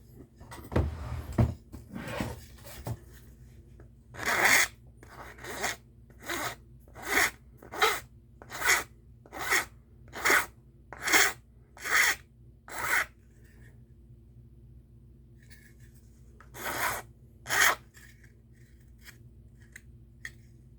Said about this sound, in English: I'll do a little bit of filing right there.